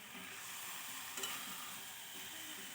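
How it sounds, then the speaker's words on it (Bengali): Meat (gosht) is stirred and frying in a pan for a curry with potatoes, a steady close sizzle with one brief scrape of the spoon, and no talking. "এই যে এখন গোস্ত লড়াইয়া দিতেছে।"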